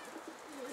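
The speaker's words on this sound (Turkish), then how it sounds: "Adam sana bir koli kuş getirmiş" Soft, low pigeon coos murmur steadily through a short moment, with no voices present.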